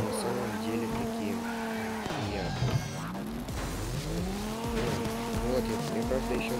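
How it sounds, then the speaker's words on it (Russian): Drifting car in CarX Drift Racing 2, a continuous loud engine drone with pitch sweeping down and back up as the car slides, tire squeal layered over it throughout. "здесь тачка сносится офигенно и дрифтить на ней"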